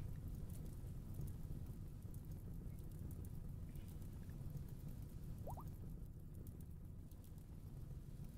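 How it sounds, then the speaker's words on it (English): Steady rain summoned by a Rainmaker spell in RimWorld, a continuous soft hiss and patter that holds at an even level throughout. "There, now it'll start raining."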